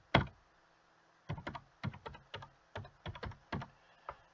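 Keys clacking on a computer keyboard while signing up for an online bidding account: one sharp keystroke, a pause, then an irregular burst of about a dozen close, crisp taps with no talking.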